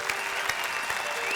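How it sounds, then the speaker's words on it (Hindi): Steady applause from a crowd at a poetry recital fills the moment, dense and even, with a few sharper claps standing out. "ताली बजाओ जरा इनके लिए, ताली बजाइए"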